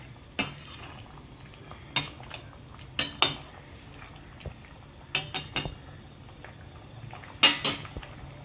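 A spoon knocks and scrapes against a cooking pot of simmering okra tamarind kara kuzhambu, a handful of sharp metallic clinks spaced irregularly over a quiet kitchen background.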